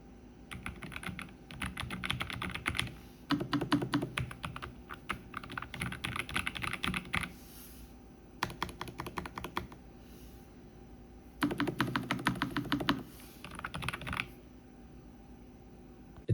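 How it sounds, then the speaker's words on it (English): Typing on a Lofree Flow Lite keyboard, giving soft, muted, creamy key clicks in rapid bursts separated by short pauses, close and fairly quiet with no voices. "The sound is like a pleasant, muted sound"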